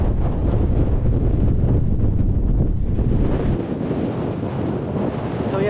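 Strong wind buffeting the microphone on an exposed fell hike near Coniston as rain and a storm move in, a steady loud roar with no talking.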